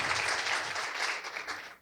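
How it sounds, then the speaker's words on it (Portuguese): Audience applause at the opening session of a democracy conference, a dense, steady wash of many hands clapping close by, fading slightly at the end. "Uma salva de palmas, o nosso muito obrigado pela presença junto conosco."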